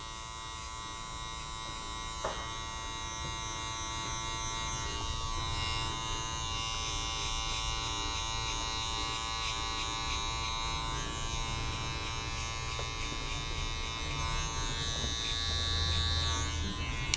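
Electric hair clipper buzzing steadily at close range while trimming stray hair on a man's bad boy style haircut after blow-drying, a continuous motor hum with no talk.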